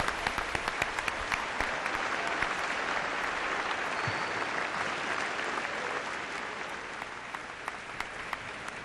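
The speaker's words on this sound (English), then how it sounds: "Let's have another round of applause for all of those who have received their doctoral degrees today" A university commencement audience gives sustained applause for doctoral degree recipients, a broad, even roar of many hands clapping in a large venue that stays steady and fades slightly toward the end.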